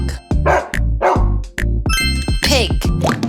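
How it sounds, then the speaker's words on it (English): A dog barks repeatedly, several short, loud, close barks in an uneven run with a bright chiming tone mixed in, set within a children's song about the Chinese zodiac animals. "dog,"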